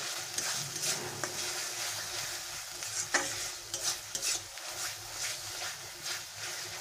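Almond paste masala for egg korma fries in a pan with a soft, steady sizzle, broken by repeated spoon scrapes and stirs, moderately quiet and close, with no voices.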